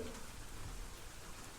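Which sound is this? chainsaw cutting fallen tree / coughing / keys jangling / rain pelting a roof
rain pelting a roof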